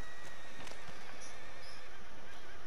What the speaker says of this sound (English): Oh, there's a horse here.